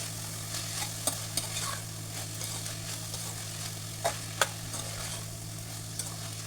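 Salted vegetables stirred in a frying pan for an upma premix, a steady close sizzle with periodic scraping and clinking strokes of the spoon over a low kitchen hum.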